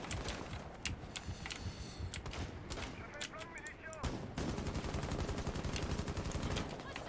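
Gunfire in a shooter video game comes as rapid automatic bursts with short pauses, loud and dense, while players talk over it.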